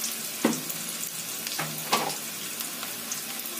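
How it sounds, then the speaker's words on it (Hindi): Onions frying in hot oil in a pan, giving a steady soft sizzle with a few brief crackles and stirring clatters, close and fairly quiet. "ये तेल प्याज लाल हो जाए, हल्का हल्का भूरा होने लगेगा।"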